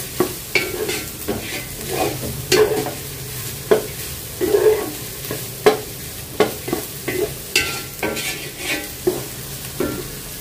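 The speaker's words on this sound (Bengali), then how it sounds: "গাজরটা এই 2-1 মিনিট একটু নাড়াচাড়া করবো" Carrots being stirred in a hot frying pan for chicken vegetable fried rice, with a steady background sizzle and repeated sharp scrapes and clacks of a spatula, fairly close and clear, with no one talking.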